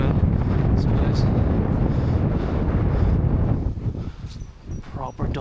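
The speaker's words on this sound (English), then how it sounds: "it's really windy" Strong wind buffets the microphone on a rusty rooftop of an abandoned French château, a loud continuous roar that eases and gusts unevenly toward the end.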